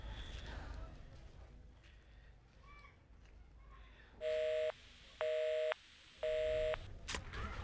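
A phone call is dialed and the line comes back busy: soft key tones and faint voices, then three loud, evenly spaced busy-signal beeps.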